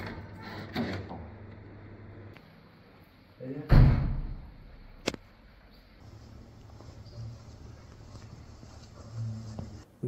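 Doors of a mosque being opened, with one loud wooden knock or thud near the middle, a sharper click shortly after, and quiet room hum around them while someone narrates.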